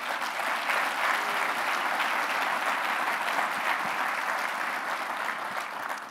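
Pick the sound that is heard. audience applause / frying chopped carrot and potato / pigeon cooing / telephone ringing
audience applause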